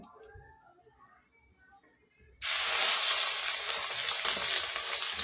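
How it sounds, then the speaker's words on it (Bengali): Beaten eggs with turmeric hit a hot pan and burst into a loud, sudden sizzle after a quiet stretch with faint background sounds, then hold a steady, close frying hiss. "এভাবে ডিমগুলো ভাজবো ডিমটা ভুজিয়ার মতন করে নেব"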